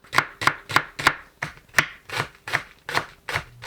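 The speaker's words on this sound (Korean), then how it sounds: "파를 썰어 준비합니다." A knife slices green onions on a cutting board in crisp, evenly spaced chops, about a dozen sharp taps in a steady rhythm, close and clear with no talking.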